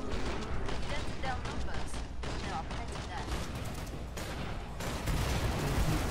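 Dual Desert Eagle pistols firing in the shooter game Killing Floor 2 amid constant loud gunfire and chaotic game noise, with dense overlapping shots throughout.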